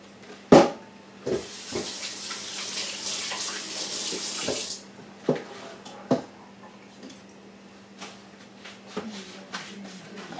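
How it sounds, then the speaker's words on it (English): Hands rinsed under a running kitchen tap during casserole preparation. Water splashes close and loud for a few seconds, followed by scattered clunks, drips and handling noises. "So let me rinse my hands."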